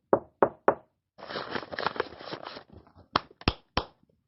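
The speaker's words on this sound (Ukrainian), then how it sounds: "Ці звуки я зробила своєю рукою, постукала у двері, потрогала, покомкала папір і поплескала в долоні" A hand raps three sharp knocks on a door, then paper rustles and crumples for a second or so, followed by three crisp hand claps, all close and clear in a quiet room.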